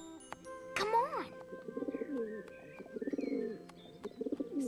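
Pigeons coo in short rounded bursts across a park setting, mixed with a brief rising call near the start and some bird chatter, heard close and moderately loud alongside a faint voice.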